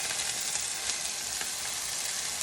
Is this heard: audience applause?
no